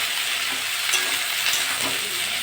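Yardlong beans and potatoes stir-fried with onion and green chilli in a pan, producing a steady close sizzle with a few soft scrapes of stirring, no voices.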